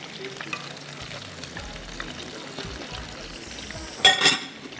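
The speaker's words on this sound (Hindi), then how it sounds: "सौते कर लें अच्छे से।" Chicken being sautéed in a pan for a kasturi handi dish: a steady close sizzle and fry throughout, stirring clatter, and a sharper metallic scrape and burst of sizzling near the end.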